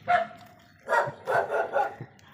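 A dog barks several times in short bursts, moderately close, with brief pauses between the barks.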